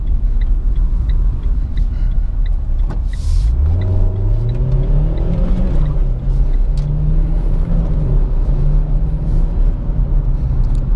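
A 2017 Renault Sandero RS Racing Spirit accelerates hard in sport mode, its engine climbing steadily in pitch through the gears with a loud, close, continuous rumble inside the car and no talking.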